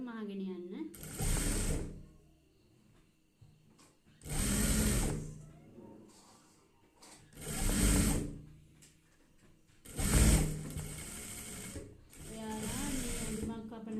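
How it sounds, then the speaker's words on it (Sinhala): Sewing machine stitching a long seam with a half seam allowance, running in four or five bursts of a few seconds each, separated by pauses, close and fairly loud with no talk. "මේ විදිහට මේ මැහුම් වාසි භාගයේ යන විදිහට දිගට මහගෙන යන්න."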